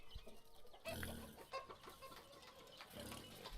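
Chickens clucking on a farm in the village-building game Ostriv, a busy flock with overlapping clucks and squawks, steady and moderately close, with a few sharper bursts standing out.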